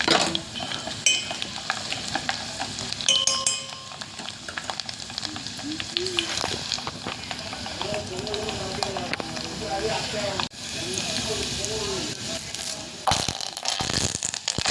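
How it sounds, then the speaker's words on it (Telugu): Mustard seeds, dried red chillies and curry leaves crackling in hot oil for a tempering, a continuous close sizzle with stirring scrapes while a person talks over much of it. "కొంచెం ఆయిల్ తీసుకొని పోపు గింజలా వేసుకొని ఎండుమిరపకాయలు కరివేపాకు వేసుకుంటే టేస్ట్ అనేది బాగుంటుంది అనమాట"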